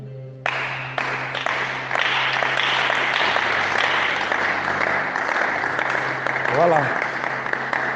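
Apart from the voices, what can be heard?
congregation applauding for God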